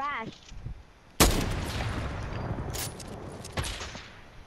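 Sniper rifle gunshots in the Fortnite video game: a sharp, loud crack followed by a long echoing tail, then two more distinct shots spaced apart, with a brief voice at the very start.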